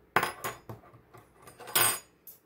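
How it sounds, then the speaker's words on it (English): A small plastic spatula scraping pumpkin muffin batter off a mixer, a quick run of close clinking and scraping knocks of varying loudness with no talking. "you're going to use the spatula to scrape off all of that pumpkin stuff that's still attached to the mixer"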